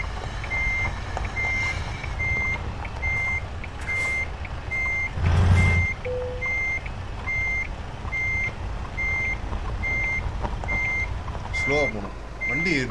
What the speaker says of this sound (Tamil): வண்டி ரிவர்ஸ் வந்து செம்மையாக போகுது.